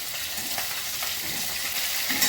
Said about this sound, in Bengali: শুধু তেল ছিটকে ছিটকে আছে, আমি মাছ ভাজতে গেলে এটা হয়।